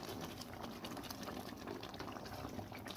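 Palm oil sizzles and spatters in a pot of stockfish tomato pepper sauce, a continuous crackling bubbling texture with tiny popping bursts, steady and close, no voices.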